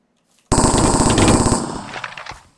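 Automatic gunfire in the video game Counter-Strike: a loud, dense burst of rapid shots lasting about a second, then a few scattered, fading shots, with no talk.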